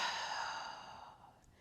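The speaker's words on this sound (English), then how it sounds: "Breathe." A long exhaled breath during a yoga flow, fairly close and soft, tapering off over about a second and a half with no talking.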